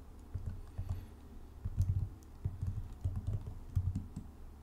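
Keys tapped on a computer keyboard to enter a password during first-time setup of an Ubuntu 20.04 virtual machine on an M1 Mac, a steady run of close, soft clicks in small bursts with no voices.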